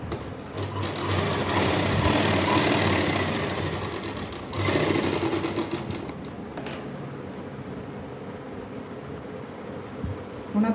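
A sewing machine stitches fabric for a palazzo pants pocket, its needle chattering in a fast, loud, continuous run that surges briefly midway and settles, ending with a couple of clicks.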